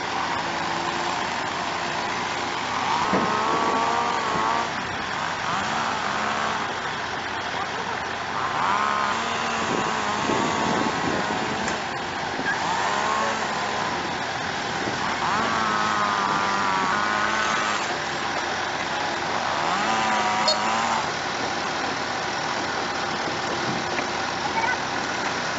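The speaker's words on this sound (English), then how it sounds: "The excavator unloads itself from the truck with stunning precision, using only its bucket as leverage" A heavy excavator's diesel engine idling and working as it unloads itself from a truck, a steady low rumble with periodic hydraulic whines and clanks rising and falling, with no talking.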